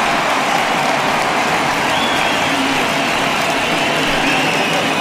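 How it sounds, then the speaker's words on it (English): Broadband roar of a home crowd's ovation for a departing starting pitcher in a baseball video game, steady and dense throughout with no voices over it. "he receives a nice ovation from this home crowd"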